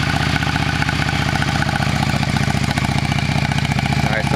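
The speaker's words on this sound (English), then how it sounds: "Without the modification, the bike really sounds very weak, puny, despite the 650cc engine." A stock 2004 Yamaha V Star 650 Custom motorcycle, a 650cc cruiser, idles close by with a steady, even rhythmic putter throughout.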